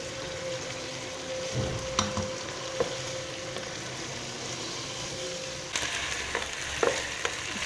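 Chicken with yogurt fries in a karahi, giving a steady dense sizzle with occasional scraping stirs and light clinks throughout, with no talking.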